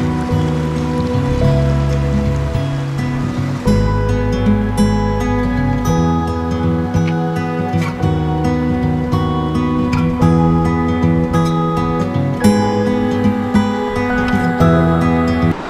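A mountain stream near Harsil in Uttarakhand flows steadily, a continuous close rushing wash of water with no pauses, overlaid by tonal, music-like layers throughout.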